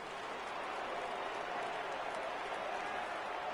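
Stadium crowd noise from the baseball video game MLB The Show 18, a steady, fairly quiet wash of cheering and applause with no distinct peaks across the short stretch.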